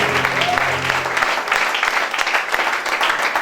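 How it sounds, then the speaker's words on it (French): A church congregation claps loudly and steadily for the Lord, a dense crowd applause that starts under a brief sung or spoken tone and carries on through. "Acclamez très fort le Seigneur parce que c'est le temps de la visitation."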